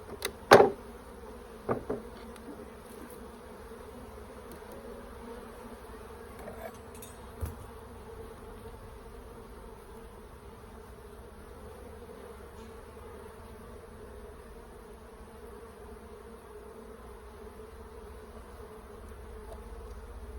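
Honey bees drone around an open hive during an inspection, a soft continuous buzz with a few brief knocks and clicks of equipment early on.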